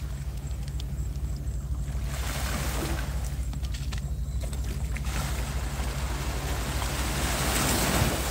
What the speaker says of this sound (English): Yeah, the wave them have come up and splash all about.